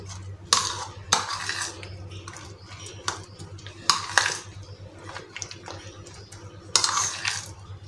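A spoon clinks and scrapes against a bowl while mixing a chicken and vegetable sandwich filling with carrots, with several sharp metallic knocks spaced irregularly over a low steady background hum.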